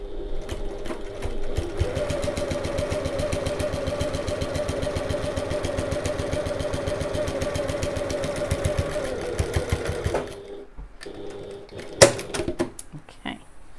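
A sewing machine stitches a bag from bottom to top in a steady, close, rapid run lasting about ten seconds before stopping, followed by a single sharp click in the quiet.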